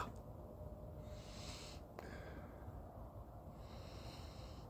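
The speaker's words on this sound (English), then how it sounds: "Let's have a sniff of this dark lager." Quiet nasal sniffs at a glass of 4 Pines dark lager, two or three soft breathy inhales close to the microphone, faint against low background hiss.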